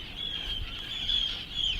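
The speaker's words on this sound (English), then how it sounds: "Except for these birds." Birds calling at midnight in Iceland, near a volcanic glacier mountain: faint, distant, thin honking calls repeat over soft wind-like ambient noise, with no talk.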